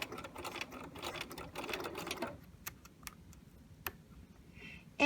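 A sewing machine stitching down a fly zipper runs in a quick, steady burst for about two seconds, then stops, leaving a few scattered clicks and faint handling noises before the end.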